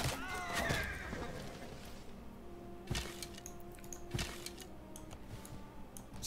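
A horse from a horse archer unit in the strategy game Civilization 6 gives a loud, close whinny at the start, followed by a few hoof clip-clops and clicks as the neigh fades.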